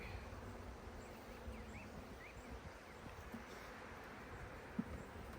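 Honeybees buzz faintly around a nuc hive box during a transfer into a new hive, a soft continuous hum with brief rising wingbeat sweeps passing close, over a low outdoor background.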